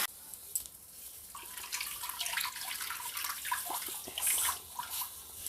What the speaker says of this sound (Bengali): এবার আমি তেঁতুল জলটা দিয়ে দিচ্ছি।